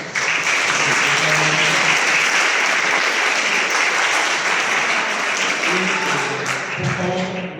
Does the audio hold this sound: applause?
yes